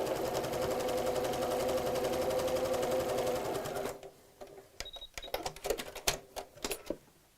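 A domestic sewing machine stitches ribbon onto lace with a steady, fast mechanical whir for about four seconds, then stops, leaving scattered light handling clicks and rustles of fabric.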